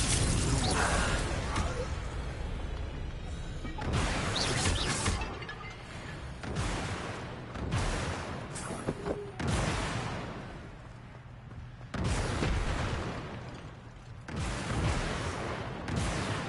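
Fire and blasting spells cast in a wizarding video game, heard as a run of loud whooshing bursts and booming impacts, about six separate blasts spread through the stretch, dense and close.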